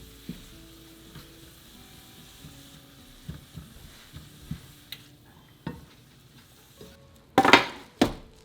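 Onions sautéing in butter in a home kitchen pan give off a faint, steady sizzle and crackle. Light utensil taps join it, then a couple of louder clatters near the end.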